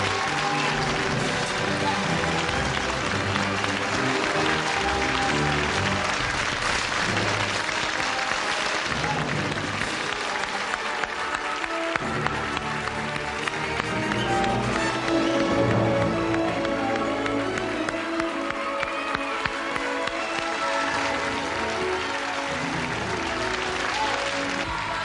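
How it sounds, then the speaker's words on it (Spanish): Studio audience on a television show applauding loudly to welcome Karina Zampini, sustained dense clapping with music and voices underneath throughout. "fuerte el aplauso"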